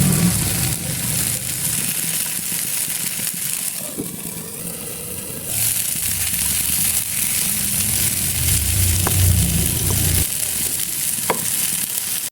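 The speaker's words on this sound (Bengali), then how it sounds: "আর বাকি টমেটোগুলো দিয়ে নরম হওয়া অবধি ভেজে নেব।" Tomatoes frying under a lid over low heat in a pan for a Bengali tilapia mash, a steady soft sizzle running unbroken at close range with no voices.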